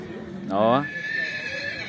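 A horse gives one loud, falling whinny at the Sokuluk horse market. Voices and crowd noise from the market carry on faintly underneath.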